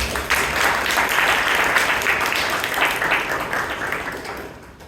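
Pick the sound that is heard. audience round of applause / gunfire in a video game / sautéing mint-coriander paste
audience round of applause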